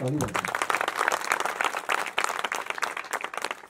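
A crowd at a kirtan breaks into sustained applause, dense clapping that holds steady for several seconds after a brief voice at the start.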